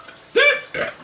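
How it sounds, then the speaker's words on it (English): A hiccup during a Carolina Reaper pickle challenge: a sudden voiced gulp with a short follow-up catch, close and fairly loud, with no speech. "There's the hiccups."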